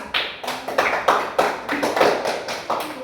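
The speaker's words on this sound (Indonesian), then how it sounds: "tepuk tangan untuk kelompok 2" A small classroom group claps for a student team, a loose run of distinct hand claps in uneven bursts, close and fairly quiet.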